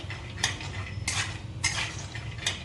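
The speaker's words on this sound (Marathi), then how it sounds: "बदाम परतायला थोडा वेळ लागतो म्हणून त्यांना कमी गॅसवरच तीन ते चार मिनटं मस्त परतून घ्या" Almonds roasting and being stirred in a pan over low gas for fasting makhana-date laddoos, with a few distinct scraping clinks of a spoon against the pan over a low, steady background hum.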